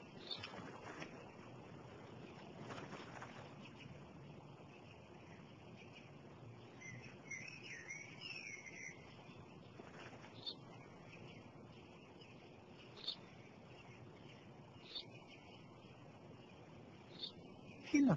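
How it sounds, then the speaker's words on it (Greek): A sparrow gives a few faint, scattered chirps outdoors, heard between quiet pauses while people talk nearby. "Ένα σπουργίτη είναι, πατέρα."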